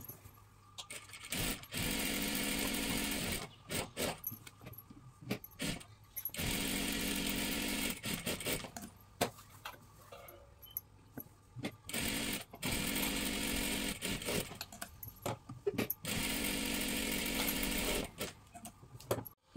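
A sewing machine double-stitching a salwar dress runs in several loud bursts of a few seconds each, a fast rattling whir that stops and restarts with short quiet gaps between runs.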